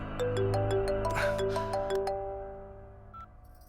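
A melodic electronic ringtone chimes a short repeating tune, loud and close, then fades out.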